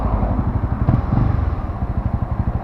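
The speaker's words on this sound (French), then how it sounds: "Évidemment je fais peur à personne cet échappement." Honda CB300R motorcycle exhaust rumbling close by at low speed, a steady pulsing engine note with no talk.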